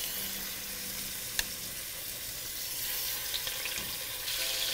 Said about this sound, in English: once our pot is hot, we're going to begin to brown our pieces of meat